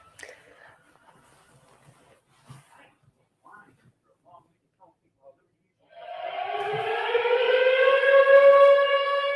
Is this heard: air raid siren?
yes